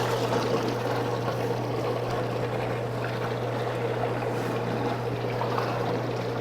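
Steady water spray washing sugar down the sides of a 50-gallon sugar water tank, a constant rushing hiss with a low motor hum underneath, close and continuous throughout.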